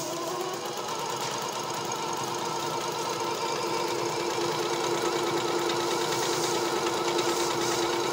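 A sewing machine stitches a decorative design pattern, its motor giving a steady, close, rapid mechanical whirring buzz that runs without a break, with no voices.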